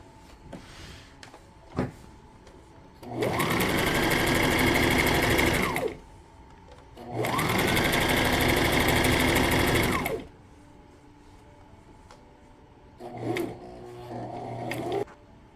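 A sewing machine stitches fabric for a two-tone flare skirt in two steady runs of about three seconds each, with a shorter burst near the end. Between the runs there are quiet pauses and a few faint handling clicks.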